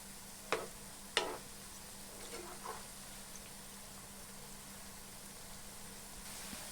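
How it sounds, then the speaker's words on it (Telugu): Onion pakoda frying in hot oil while being turned, a steady low sizzle running throughout with a couple of sharp clinks from the utensil early on and soft stirring scrapes, close and quiet. "మాడిపోకుండా ఆ విధంగా తిప్పుకోవాలి"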